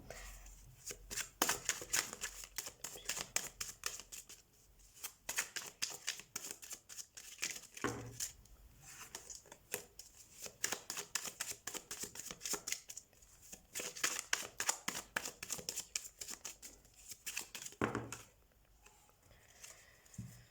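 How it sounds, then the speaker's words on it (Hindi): Tarot cards being shuffled by hand at close range, a dense, fast run of papery riffles and flicks that goes on almost without a break, with short pauses between bursts and no talking. "अभी मेरी शफलिंग कंप्लीट नहीं हुई है"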